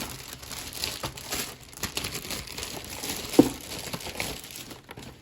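Plastic wrapping crinkles and rustles in close, irregular bursts as a Life-Like HO scale Conrail N5C caboose model is pulled free of its packaging, with one sharper crackle partway through.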